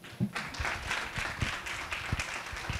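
An audience at a Hospital Hugo Mendoza pediatric health talk claps to welcome a speaker, a moderate, uneven patter of hands with a few sharper claps standing out over nearly three seconds.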